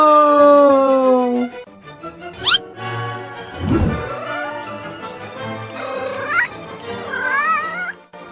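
A cartoon kitten meows in a kids' comedy, drawn-out wavering mewls and caterwauls, loud and close, with other cartoon sound effects between the cries.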